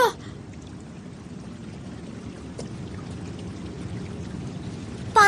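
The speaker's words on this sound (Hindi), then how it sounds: "पानी बह रहा है।" Water flowing in an icy Antarctic setting: a soft, continuous trickling pour runs steadily and quietly throughout, with brief louder bits at the very start and end.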